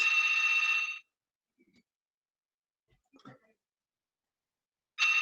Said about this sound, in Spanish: Que suene el teléfono más.